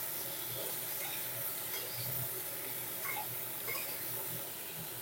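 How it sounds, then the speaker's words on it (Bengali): Pointed gourd (patol) pieces frying with turmeric and salt, giving a steady, close sizzle with faint crackles and light stirring throughout, with no talk over it. "এবারে পটলটা ভালো করে লাল লাল করে ভেজে নিতে হবে"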